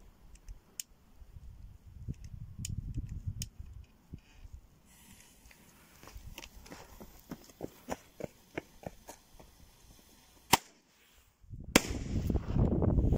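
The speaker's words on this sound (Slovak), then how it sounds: "Šikma vymetnica." A firework is fired from an angled launcher, giving a few sharp, separate pops and cracks at moderate distance amid quieter clicking, followed by a louder rushing burst near the end.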